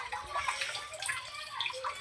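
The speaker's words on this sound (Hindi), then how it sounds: "तो हाँ पानी वेड़िए, बेचारा जानवर पानी पीए।" Water poured into a trough for animals to drink on a hot day, a steady splashing and trickling stream heard close and alone without any talk.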